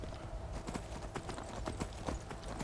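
Hooves clip-clop steadily on hard ground as a horse moves in Skyrim, a brisk regular rhythm of close hoof strikes over a dense game soundscape.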